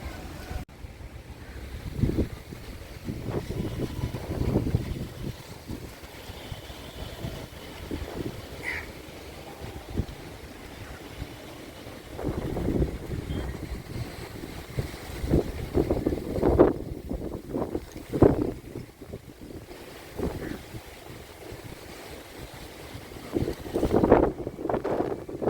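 Strong storm wind in Chennai buffets the microphone in loud irregular gusts, with roaring surges rising and falling throughout and faint voices now and then.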